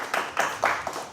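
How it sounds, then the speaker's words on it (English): A small studio audience on a talk show claps for a guest, about five loose, evenly spaced claps in close succession, fairly near and unaccompanied by talk. "Let's give him a round of applause."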